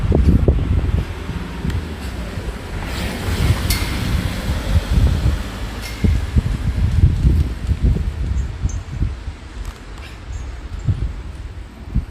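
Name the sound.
wind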